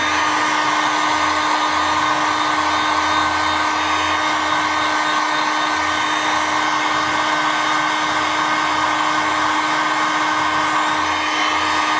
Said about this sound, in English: Make sure there's nothing behind where you're heat gunning that can melt very easily.